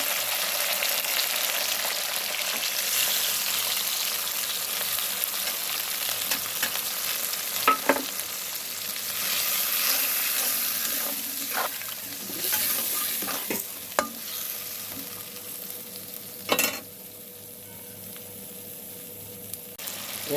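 Spice paste fries in a little oil for a fish curry, hissing steadily up close while a spoon scrapes and clicks against the pan every few seconds.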